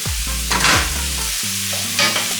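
Garlic sizzles in a pan ahead of deglazing, a bright frying hiss swelling in short bursts over a low steady hum, close by with no talking.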